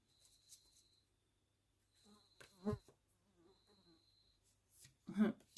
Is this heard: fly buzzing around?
yes